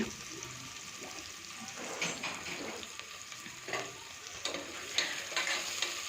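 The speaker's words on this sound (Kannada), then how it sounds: "ಈರುಳ್ಳಿನ ಎಣ್ಣೆಲಿ ಚೆನ್ನಾಗಿ ಫ್ರೈ ಮಾಡ್ಕೊಳ್ಳಿ" Chopped onions frying in oil in a pan, a soft, steady sizzle with faint stirring scrapes, fairly quiet and close, no voices.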